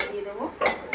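A lid clatters onto a cooking pan of chicken and fried potatoes, a short metallic clink of pot and cutlery close by, with a second brief clank at the end.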